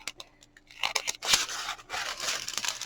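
Scissors snip apart plastic diamond painting gem bags in a quiet room, giving a run of short, crisp cuts and crinkles, close up and fairly soft, with no talking.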